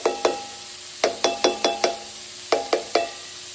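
Jalapenos and nacho ingredients sizzling in a pan, with a steady soft fry hiss under a series of sharp stirring clicks from a utensil, grouped in quick bursts with short pauses.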